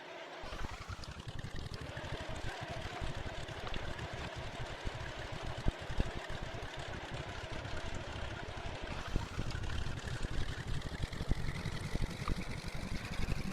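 A twin Cessna 310L in X-Plane 11 runs rough just after start-up. A dense, uneven engine rumble with a stuttering, pulsing texture drones steadily and close up for the whole stretch, with no voices over it.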